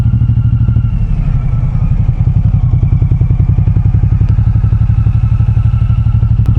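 Suzuki M90R or M109R cruiser motorcycle riding and making a U-turn, a loud, close, steady deep engine thump with a rapid even firing rhythm that continues throughout with no speech.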